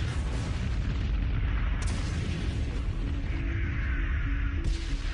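Massive artillery bombardment opening Operation Totalize in the Battle of Normandy, a continuous roar of booming fire with dense low rumble throughout, steady and loud with no speech.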